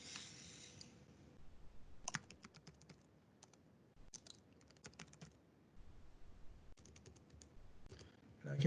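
Mouse clicks on a computer while setting up a Teams meeting: sparse, sharp clicks in small clusters separated by quiet gaps, close and soft over a faint room hum.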